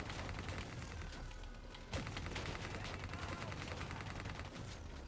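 Rapid, dense gunfire in Call of Duty Black Ops 3 as a player shoots at a generator, a continuous loud barrage of overlapping shots with a sharp blast near two seconds.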